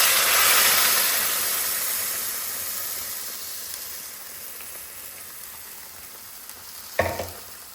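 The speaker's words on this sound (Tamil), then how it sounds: "இப்போ இதில் வந்து நம்ம அரைச்ச விழுதை ஊற்றிடலாம்." A ground masala paste hits a hot pan and sizzles loudly at first, the frying hiss slowly easing into a steady bubble, with a single clank of utensil near the end.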